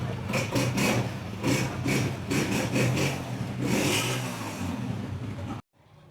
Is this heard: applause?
no